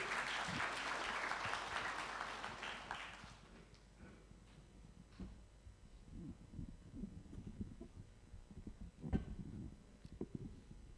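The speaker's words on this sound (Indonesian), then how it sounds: "Boleh tepuk tangan sekali lagi hadirin?" An audience at a gathering of Indonesian museum associations applauds, loud and dense for about three seconds before it fades out. Scattered soft thuds and rustles continue in a quiet hall afterward.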